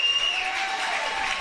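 A stadium crowd applauds and cheers at the BAFA National League Division 1 American football final, Sandwell Steelers against Solent, as a dense, loud, continuous wash of clapping with a steady tone ringing through it.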